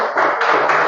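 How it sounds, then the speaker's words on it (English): A short burst of audience applause for a student volunteer at a board-exam revision session, quick overlapping claps at moderate loudness with no talk. "Give him a round of applause, guys."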